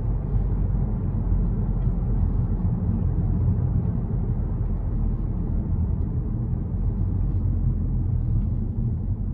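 A stock Volkswagen Golf 8 GTI driving on a road, heard from the cabin as a constant deep rumble of engine and tyres, even and loud throughout, with no talk.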